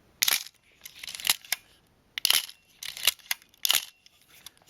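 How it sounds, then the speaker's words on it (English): Nikon FG 35mm film camera shutter fired several times, each release a sharp mechanical click followed by a short zipping wind-down, in two close groups of crisp, near, isolated snaps. "FG has a good solid feel, but it has a little zip sound at the end of it."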